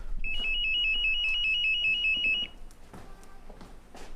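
A telephone rings in a Haitian film scene, a close electronic ringtone trilling in rapid repeated pulses for about two seconds before cutting off, followed by faint rustling.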